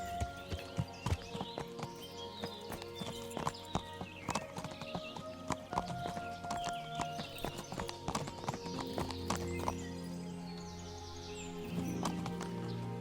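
Hooves clip-clop in an uneven walking rhythm over a bed of music and ambient sounds in Kingdom Come: Deliverance, with a horse snorting and neighing partway through.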